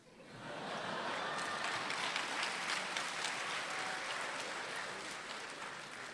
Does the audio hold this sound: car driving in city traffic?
no